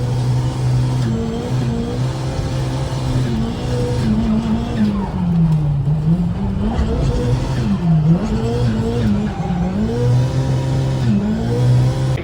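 A modified street car's engine revs hard and loud, its pitch climbing and dropping in repeated waves as a continuous, raspy roar that fills the recording.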